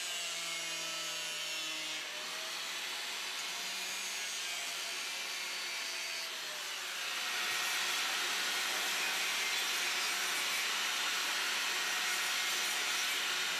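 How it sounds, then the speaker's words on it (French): An angle grinder tapering the end of a pipe gives a steady, harsh abrasive whine that rises and brightens partway through and then holds loud and constant to the end, with no talk over it. "Tentez à l'aide de votre disqueuse de rendre conique l'embout de votre tuyau"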